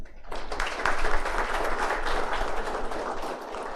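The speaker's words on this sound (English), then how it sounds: "huge round of applause to our retiring chairman, Mr. Francis B. Grant" An audience at an annual committee meeting applauds its retiring chairman, a dense, steady wash of many hands clapping that holds at an even level throughout, with no talking over it.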